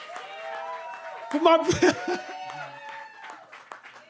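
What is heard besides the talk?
audience round of applause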